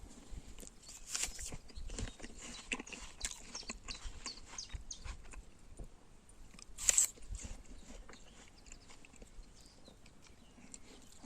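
Someone bites and chews a crunchy winter apple, a few sharp crisp bites followed by quiet, repeated juicy crunching close to the microphone, with one loud crack near the middle.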